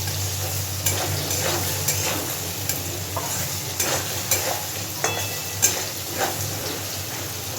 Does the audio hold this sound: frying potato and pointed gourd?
yes